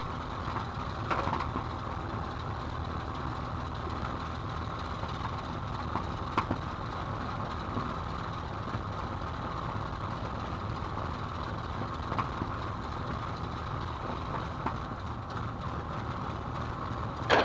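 A steady, dense piston engine roar from a P-51 Mustang fills the whole stretch, heard from inside the cockpit with constant rumble and occasional faint clicks, no voices.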